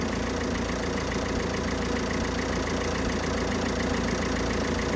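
A Fiat Tipo 1.6 Multijet diesel idles steadily, a dense, even drone that stays constant throughout with no talking.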